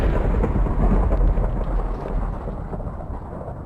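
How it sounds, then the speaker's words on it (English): A Minecraft thunderstorm with loud, close, rumbling thunder and a steady hiss of rain, the rumble heaviest early and slowly easing off. "Gotta love the thunderstorms that always happen here. Man, that's a lot of lightning strikes."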